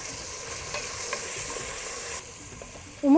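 Onions with cumin sizzle hard in a pan, a bright continuous fry with a few stirring scrapes, close and loud, ending in a brief louder clatter.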